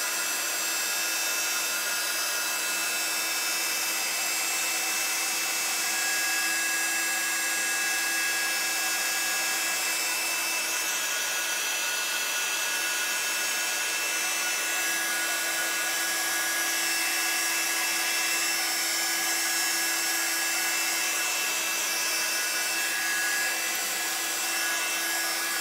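A heat tool blows over an art journal page to dry it, making a steady, loud whirring hiss with a constant whine, unbroken for the whole stretch and with no talking.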